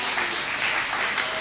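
Listeners at a Christian gathering clap together, a fairly soft, steady patter of applause that carries on briefly without any voice over it.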